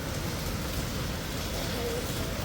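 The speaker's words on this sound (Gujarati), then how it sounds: "જોરદાર વરસાદ ચાલુ થઈ ગયો છે ભાઈ" Dense, steady rain pours down in a continuous broadband hiss, fairly close and unbroken, with no voices.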